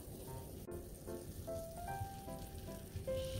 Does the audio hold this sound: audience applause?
no